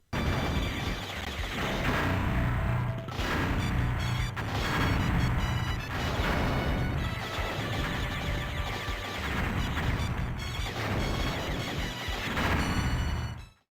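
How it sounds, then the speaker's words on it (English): Deep, booming explosions and crashing blasts from the arcade shoot-'em-up Storm Blade, dense and continuous over driving game music for the whole stretch, loud and up front. "The kicker for me is the sound effects, including deep explosions, that really make the game feel more intense."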